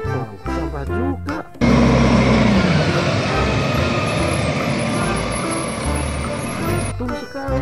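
A toy garbage truck sends out a loud, steady electronic engine roar that runs unbroken for about five and a half seconds, with a voice speaking briefly just before it starts and again as it ends.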